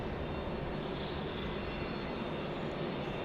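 Steady broadband jet roar from an MD-11 airliner at Salt Lake City airport, a continuous even rumble and hiss at moderate distance with no voices over it.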